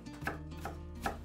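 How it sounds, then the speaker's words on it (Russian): A knife chops napa cabbage finely on a board, three soft distinct strokes in a slow rhythm, close and quiet, with no talk. "Капусту нужно нарезать очень мелко."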